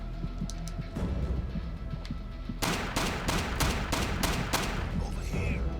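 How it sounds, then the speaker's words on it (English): Gunfire in the video game Alekhine's Gun, a quick run of sharp repeated shots in the second half after quieter scattered pops, fairly loud over low game ambience. "Who's shooting at me?"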